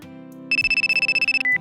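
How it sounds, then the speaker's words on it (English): A mobile phone rings with a loud, close electronic ringtone of rapid repeated pulses lasting about a second, followed by a brief higher tone, over a soft background hum and with no talking. "my phone rang"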